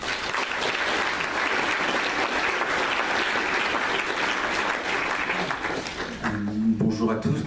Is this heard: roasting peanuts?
no